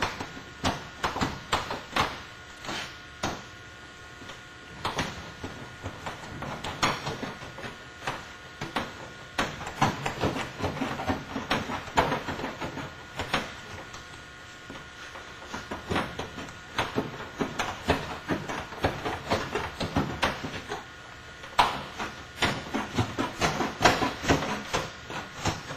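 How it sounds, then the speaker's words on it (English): Scraping and tearing as a hammer claw cuts through a steel roof panel, a long run of irregular rasping strokes and clanks, close and fairly loud, with no talking. "The claw of a hammer is the simplest way to cut through there."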